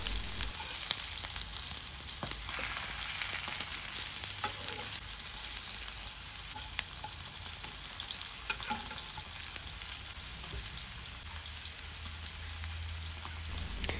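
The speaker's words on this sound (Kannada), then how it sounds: "ಒಂದು ಸೈಡ್ ಫ್ರೈ ಆದ ನಂತರ ಟರ್ನ್ ಮಾಡಿ ಇನ್ನೊಂದು ಸೈಡ್ ಫ್ರೈ ಮಾಡಿಕೊಳ್ಳಿ" Breadfruit slices fry on a hot tawa with a continuous, even hiss of oil and dense crackling, close and steady throughout with no voices.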